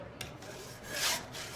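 Disturbing sawing or breaking sounds on frozen bodies in a dark music video, a couple of quiet rasping, scraping strokes with a brief swell of harsh friction near the end.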